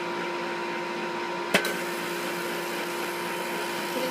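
A Waring Pro juice extractor juicing apple and carrot gives off a steady, even motor whir, with one sharp click about a third of the way in. There are no voices.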